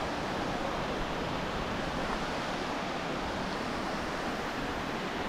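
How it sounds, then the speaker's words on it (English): Vidae Falls at Crater Lake pours as a steady, even rush of water, a broad continuous hiss heard close and fairly loud, with no voices. "But yeah, cool waterfall. So Vidae Falls."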